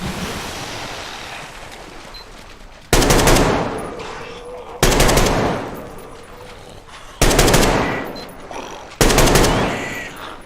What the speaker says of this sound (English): I don't need it constantly firing 3-round bursts.